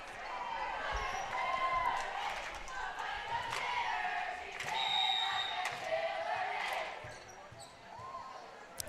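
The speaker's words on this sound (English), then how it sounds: "It's great cheering by Bear River in here." Fans at a high school volleyball match between West Side and Bear River cheer loudly and steadily, with chanting voices and shouts filling a gym alongside sharp ball impacts.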